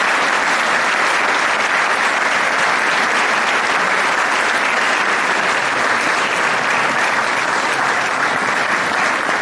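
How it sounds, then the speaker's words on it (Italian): An audience in a church in Orosei applauds a choir: loud, steady, sustained clapping from many hands, continuous throughout with no talk over it. "così possiamo anche applaudire bene insomma tutta questa formazione"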